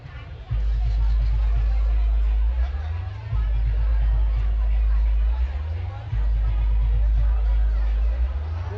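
A dense crowd hubbub at a Pola festival rally in Durg city, with constant babble of many voices under a loud, pulsing heavy bass beat from a sound system.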